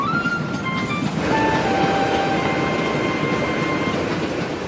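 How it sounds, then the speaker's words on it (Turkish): A moving cartoon train rumbles with a steady broadband roar and clattering wheels throughout, with faint whistle-like tones near the start and a steadier hum after the first second, with no talk. "Aslında hareket eden tren Caillou."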